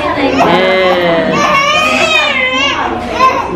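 A baby cries hard after an injection at a doctor's visit, loud wailing bursts rising and falling, close, with adult voices murmuring underneath.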